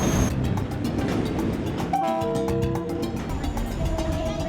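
A train runs on rehabilitated rails in the Philippines with a steady rumble and rhythmic clickety-clack. Brief tonal horn-like notes sound midway, all close and loud.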